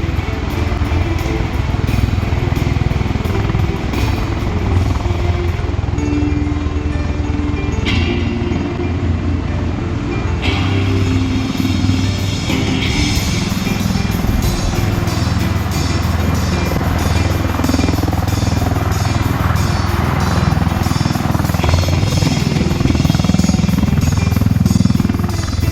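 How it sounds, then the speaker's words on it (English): A USMC VMM-265 MV-22B Osprey tiltrotor aircraft flies a display at the Iwakuni base Friendship Day 2019, its loud, droning rotor and engine noise continuing steadily without a break. "MV-22B Osprey."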